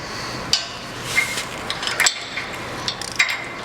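Bolts being fitted and tightened on the gearbox and backbone of a Massey Ferguson Professional Series disc mower: sparse, sharp metallic clinks and taps from a wrench against steel over a steady background hiss.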